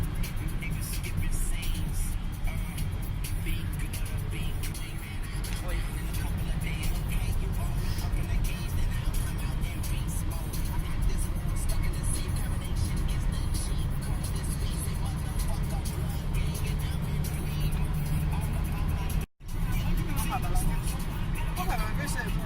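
Steady low road rumble from a car driving along a road in Estonia, continuous and close throughout with a brief dropout near the end, faint background voices at times.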